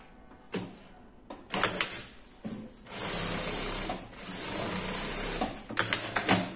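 Sewing machine stitching a jeans pocket, short bursts of close mechanical whirring and clatter, then a longer steady run of stitching before a few quick final bursts.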